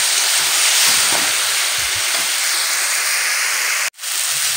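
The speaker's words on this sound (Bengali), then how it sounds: "আমি 5 থেকে 6 মিনিট কষিয়ে নিলাম খুব ভালো করে" Spices and masala for a light rohu fish curry sauté in hot oil, giving a steady loud hiss and sizzle throughout with a brief sharp clatter near the end.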